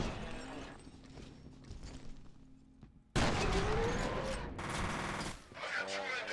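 Shotgun blasts and heavy gunfire in the 2005 shooter F.E.A.R., quieter firing at first, then a loud sustained burst of shots and impacts from about three seconds on.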